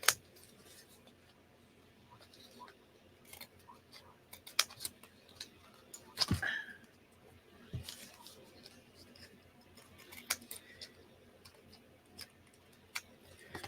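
Scissors with glue stuck to the blades trim embossed cardstock in quiet, scattered snips and ticks, one louder rustle near the middle, with faint room noise between cuts.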